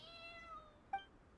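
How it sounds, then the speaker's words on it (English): A single soft cat meow in a Genshin Impact game, a faint drawn-out cry followed by a short higher chirp, heard alone. "Meow meow."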